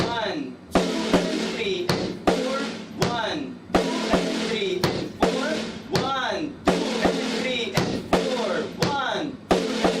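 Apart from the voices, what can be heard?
bass drum and snare drum beat being played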